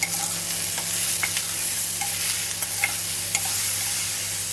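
Chopped tomatoes fry in a pan with onions for a Goan crab masala, a steady bright sizzle throughout with a few faint spatula scrapes and pops, no talking.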